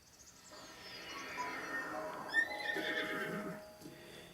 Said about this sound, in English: we're going to go ahead and call our horse once more